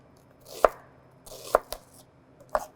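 A knife dices an onion on a cutting board, with three distinct sharp chops spaced about a second apart and a softer tap between, close and clear against quiet.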